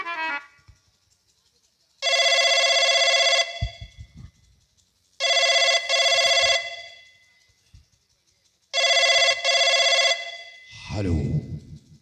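Telephone ringing in a royal court setting, three loud, close bursts of an electronic ring, each lasting over a second with short gaps, followed by a handset being picked up.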